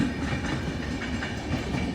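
Close, loud rumble of passing passenger train carriages, steady clickety-clack of wheels over rail joints with no voices.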